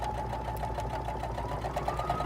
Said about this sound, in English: I'm going to put my presser foot down, and we're going to sew on this.